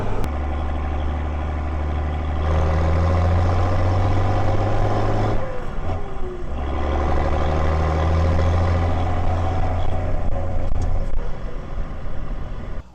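A Fendt Favorit 512C tractor runs in high range on the road, its engine droning with a steady low hum that drops briefly mid-way before picking up again, loud and close throughout.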